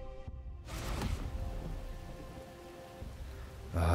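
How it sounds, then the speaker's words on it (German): Steady rain in Forza Horizon 4 hisses over a low rumble, broadband and fairly loud throughout, with a brief heavier thump near the end. "Jetzt regnet es halt wieder."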